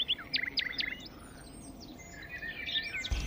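Several birds chirp in quick bursts of high tweets over a farm field, with a burst of calls early, quieter scattered notes in the middle, and a brief low thump at the very end.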